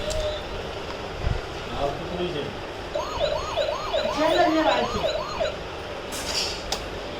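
A toy car's electronic siren wails in repeated rising-and-falling sweeps at close range, given as a child's birthday gift, with faint household background noise around it.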